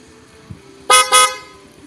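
Dual car horn fitted to a vehicle, two loud close honks in quick succession, each a bright blaring tone, heard alone after a faint thump.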